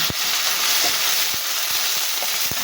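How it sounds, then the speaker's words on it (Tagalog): Chopped tomato and onion sautéing in a hot pan, with a constant loud sizzle and a few clacks of a spatula against the pan, heard close with no voices. "Lagyan na natin yung kamatis at sibuyas."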